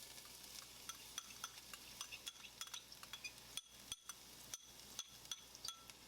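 Chopped garlic sizzles quietly in a pan under a steady stream of light metallic clinks and scrapes from a utensil stirring against the metal.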